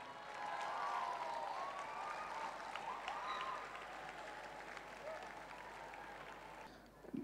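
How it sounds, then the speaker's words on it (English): An audience at a school platinum jubilee celebration applauds students who danced on stage, with sustained steady clapping, a few cheers and faint voices, heard somewhat distant and fairly quiet throughout. "We need to give a bigger round of applause to the students who came up here on the stage and danced."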